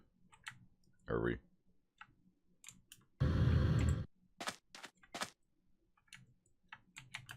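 Mouse clicks during Minecraft play, sharp and isolated, a handful spaced irregularly, close and dry, interrupted by a brief burst of louder noise and some short speech.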